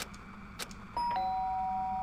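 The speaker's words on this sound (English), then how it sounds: "Ding dong! Who's in my room?" A doorbell in the video game Danganronpa rings after a few soft background sounds, a clear two-tone electronic chime that holds and sustains to the end, close and fairly loud.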